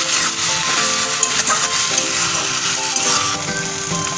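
Jute leaves sprinkled with whole poppy seeds are stirred in a hot pan, a loud, dense crackling sizzle running continuously with scraping strokes of the spatula close by.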